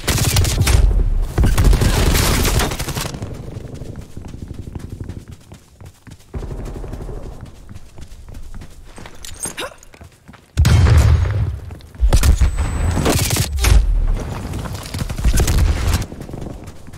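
Loud blasts and heavy gunfire from a Call of Duty Cold War Hardpoint match on Satellite. A stun grenade goes off among bursts that come and go, separated by quieter gaps.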